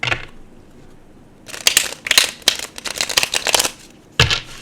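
Tarot cards are shuffled close up: a brief riffle, a pause, then a longer series of crisp papery riffles and taps, and one final quick shuffle, with no talking.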